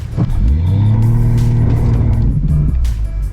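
Subaru Forester and Outback locked in a tug of war, engines droning loud and close under strain with a steady low growl and a slight rise in pitch, no talk.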